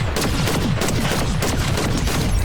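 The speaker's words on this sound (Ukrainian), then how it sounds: "В тій стороні стрілянина, а я нікого не бачу" Rapid bursts of gunfire in the Fortnite video game crackle loudly and continuously, shots overlapping into a dense volley with no pauses.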